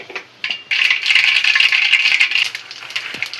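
Mustard seeds tipped into hot oil for tempering while making a tiffin, giving a dense, bright crackling sputter that starts abruptly and keeps popping steadily at close range.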